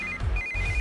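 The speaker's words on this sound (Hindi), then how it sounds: "इस वक्त दीदी का फोन।" A mobile phone ringtone plays a steady repeating electronic tone, clear and close, with soft background music underneath and no speech.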